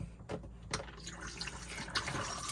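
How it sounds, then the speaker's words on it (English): A Hymer ML-T 580 motorhome toilet flushes water into its bowl, a soft steady rush and trickle of running water, quiet and close, with no voices. "You get a flow of water into the bowl"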